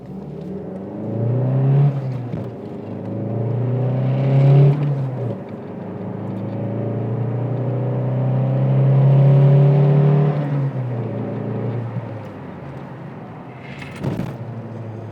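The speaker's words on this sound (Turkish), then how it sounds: "Bir görelim bakalım aracımız sıfırdan nasıl hızlanacak." A Fiat Tipo 2.0 16v Sport sedan with original tyres accelerates hard from a standstill, its four-cylinder engine revving loudly up through the gears with brief dips at the shifts, heard close from inside.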